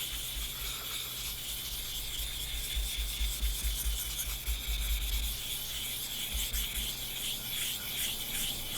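A straight razor is stroked back and forth over a Japanese natural sharpening stone, giving a continuous close, hissing scrape with a soft rhythmic pulse from the repeated strokes.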